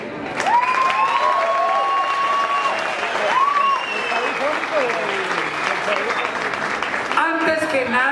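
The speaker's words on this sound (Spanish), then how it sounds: "quiero pedir un fuerte aplauso para el negocio que arranque con pie derecho." Crowd applause and cheering at the opening of La Doña restaurant in Bogotá, sustained clapping with whoops and voices over it, fairly loud and steady.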